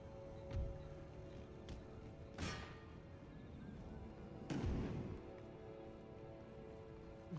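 Artillery in the Empire: Total War video game fires two distant booming shots a couple of seconds apart, each with a rolling decay, over a steady patter of ambient battle noise.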